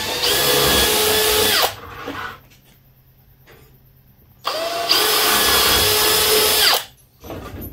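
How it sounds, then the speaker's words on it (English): Two long bursts of a power drill whirring at high speed, separated by a quiet pause, loud and close. "I'm just going to drill those."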